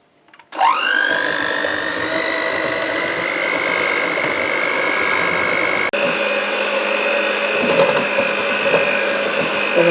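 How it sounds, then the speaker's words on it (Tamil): An electric hand mixer beats butter and sugar for a date cake, starting up sharply and then whirring at a steady high-pitched drone, loud and close, with a brief dip midway and faint scraping of the beaters against the bowl. "முதல்ல பட்டரையும் சுகரையும் நல்லா பீட் பண்ணுவோம்."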